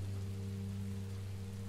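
Rain falling in the Minecraft Story Mode video game, a soft steady hiss of rainfall over a low constant hum, faint and continuous with no speech.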